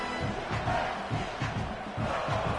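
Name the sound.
stadium crowd noise in college football video game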